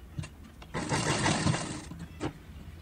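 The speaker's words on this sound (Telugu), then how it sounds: "పాదం ఇంచు గ్యాప్తో షోల్డర్స్ని డబుల్ స్టిచ్ వేసుకోవాలండి." A sewing machine runs in one steady burst of about a second, double-stitching the shoulder seam of a peplum top with a one-inch foot gap, with quieter clicks and handling before and after.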